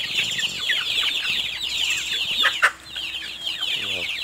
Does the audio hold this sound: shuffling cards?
no